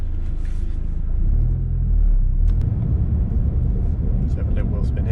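A Ford Fiesta ST tuned to about 330 horsepower revs hard at full boost, a loud close rumbling drone that swells around the two-second mark and keeps roaring to the end.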